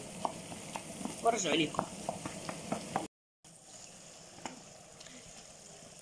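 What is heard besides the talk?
liver frying with onion in a pan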